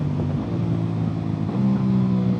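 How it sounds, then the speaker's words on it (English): An Aprilia RS660 Factory motorcycle engine drones loudly and steadily on a twisty road, with rising revs and a building throttle toward the end, heard close without talk. "the first thing you immediately notice is just how good and exciting this engine is"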